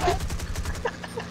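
A pea shooter gun fires in a video game: a quick rapid-fire burst of several sharp, evenly spaced shots, close and fairly loud.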